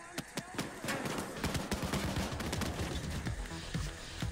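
Repeated gunfire from the co-op heist shooter Payday 2, a steady run of sharp shots and bursts at close range, with faint voices mixed into the firefight.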